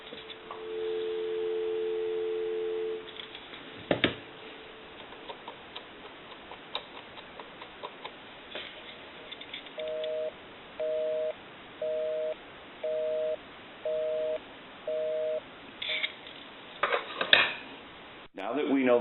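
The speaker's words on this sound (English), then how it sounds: "We'll give you some dial tone." A steady dial tone from a repaired, converted wooden wall crank telephone, followed by a clicking sound and then a regular series of short beeping tones, like a busy signal.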